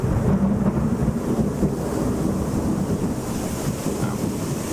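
Thunder rolling through a heavy storm, a deep sustained rumble under steady rain and wind noise, loud and close throughout.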